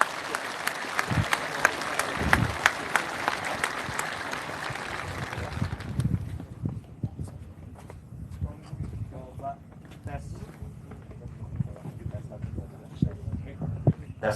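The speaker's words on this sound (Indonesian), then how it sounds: "Ya, tepuk tangan dulu." A room of officer cadets clapping in applause at a military academy during a general's visit, dense clapping for several seconds that gives way to scattered claps and murmuring voices.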